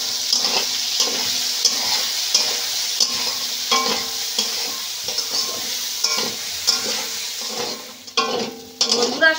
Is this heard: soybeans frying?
yes